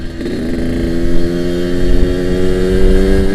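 A Yamaha RX-King two-stroke motorcycle revs hard through its exhaust on an open road, a loud, close, rising buzzy engine note that climbs steadily as it accelerates, with no talking.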